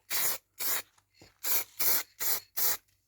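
Spray paint hisses onto a car door handle from a Rover 45 in six short close bursts, steady and evenly spaced, with quiet gaps between each spray.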